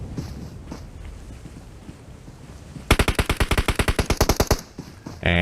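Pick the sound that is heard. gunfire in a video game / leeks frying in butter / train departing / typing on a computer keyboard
gunfire in a video game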